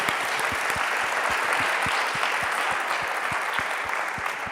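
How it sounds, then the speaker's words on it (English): Audience applause at a startup challenge gala, a dense, steady clapping from a crowd in a hall that holds evenly throughout. "And a final round of applause for the teams presenting today"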